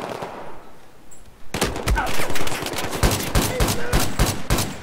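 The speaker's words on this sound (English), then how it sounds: "Oh, you weren't shooting at me, it was Carlos Cooper shooting at me." Gunfire in Battlefield 4 on the Sunken Dragon map in Rush mode: after a quiet start, rapid automatic bursts and single shots crack in quick irregular succession, loud and close.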